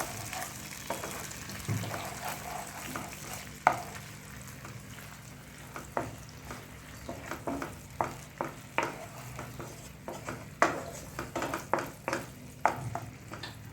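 A spoon stirs and mixes a sauce with red chilli sauce in a hot pan for chicken lollipop, making repeated sharp scraping clicks over a low background sizzle, with no voices.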